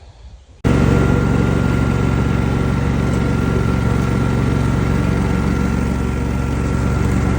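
A farm tractor engine starts up abruptly and then runs steadily at a loud, close, rough low drone, holding a constant idle-like tone to the end.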